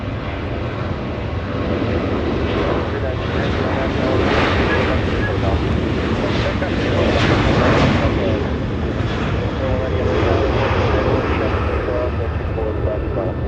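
An Aeromexico jet airliner departs Los Angeles International Airport with a sustained, loud engine roar, swelling slightly and mixed with gusty wind rumble across the microphone, while a voice talks over it.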